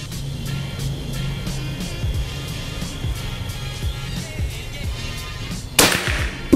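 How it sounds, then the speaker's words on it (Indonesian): A single sharp, loud shot from a Predator Tactical PCP air rifle with a folding stock, a 2024 model, cracks near the end over a steady low rumbling background. "Tembakan ketiga."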